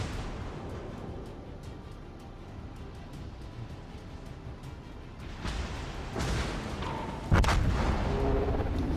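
Naval gunfire in a battleship video game: a low background rumble, then several heavier booms and sharp blasts that grow louder toward the end.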